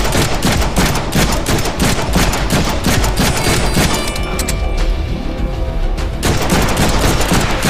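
Dense, relentless gunfire from the Deadpool video game, rapid bursts and heavy shots stacked loud and close with booming impacts, running continuously with no talk.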